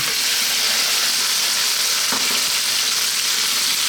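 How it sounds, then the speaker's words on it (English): Half a kilo of beef frying over medium heat in a pan for a slow-cooked curry, a steady loud hissing sizzle throughout, close up, with one faint clink partway through and no talk. "We want to fry this around for 4 to 5 minutes."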